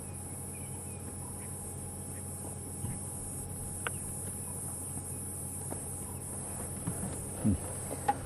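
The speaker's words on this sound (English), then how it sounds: "You can hear the cicadas still calling all around us." Cicadas call in the African bush at sunset, a steady, unbroken high buzz all around, with a few faint scattered clicks and distant bird notes.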